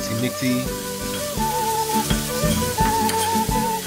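Onions and garlic paste sizzling in a pan while being mixed, a continuous frying hiss with scraping stir strokes and a faint tonal hum, briefly under a voice.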